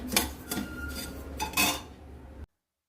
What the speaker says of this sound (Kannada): ಈಗ ನಾನು ಅಕ್ಕಿ ತರಿಯನ್ನು ಬಾಣಲೆಗೆ ಹಾಕಿ ಸ್ವಲ್ಪ ಬೆಚ್ಚಗೆ ಆಗೋವರೆಗೂ ಸ್ವಲ್ಪ ಹುರ್ಕೋತೀನಿ.